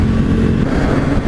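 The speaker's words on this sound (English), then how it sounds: "I was hitting the rev limiter." Close and loud, a 2018 KTM 1290 Super Duke motorcycle bangs against the rev limiter in a continuous, harsh engine roar that holds steady throughout, with no speech.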